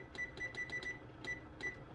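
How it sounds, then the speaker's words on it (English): A kitchen timer being set to ten minutes while potatoes are boiled for mashing, giving a quick run of short electronic beeps, five in close succession and then two more spaced apart, fairly faint and close. "I'm going to start with a 10-minute timer."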